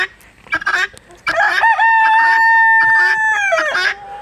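Chickens in a farmyard, with a rooster crowing one long, loud, close cock-a-doodle-doo after a few short clucks and calls; guinea fowl are also kept there.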